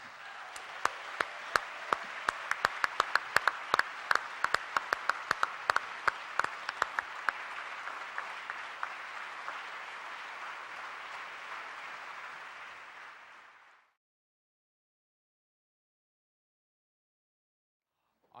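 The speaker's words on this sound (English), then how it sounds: "So please give a wonderful, thunderous applause to Obi Odun of the Last Poets." A panel audience gives an enthusiastic round of applause for a veteran poet, dense clapping that runs for about thirteen seconds with a few sharp nearby claps on top, then cuts to silence.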